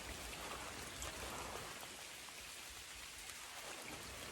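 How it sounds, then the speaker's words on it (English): Steady rain falls at a wild camping spot in Scotland, a dense, even hiss of drops on surfaces that holds constant throughout without any voices. "I know it's raining"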